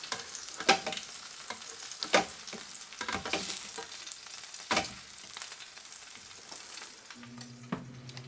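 Bacon-wrapped, mozzarella-stuffed chicken breasts sizzle on a Ninja Foodi Grill XL, a steady fry broken by several sharp clatters and scrapes of turning; a low hum enters near the end.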